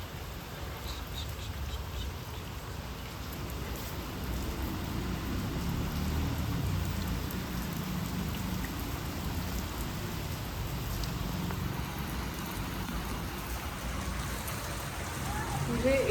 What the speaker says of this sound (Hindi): बारिश एकदम से बढ़ चुकी है